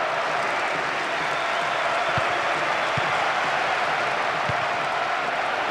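A stadium crowd roars steadily after a goal in the football video game Winning Eleven, a dense wash of cheering and clapping that holds at an even level throughout.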